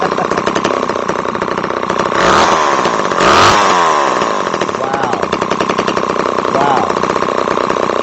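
A Homelite XL 12 chainsaw, a ten-year-old unit, runs loud and close with a buzzing two-stroke rattle, revving up sharply twice in the middle before dropping back to a rough, steady idle.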